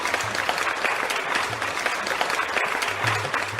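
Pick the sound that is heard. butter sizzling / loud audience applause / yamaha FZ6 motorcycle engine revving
loud audience applause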